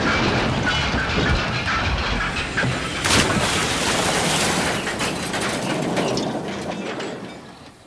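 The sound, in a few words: Thomas the Tank Engine pulling a flour train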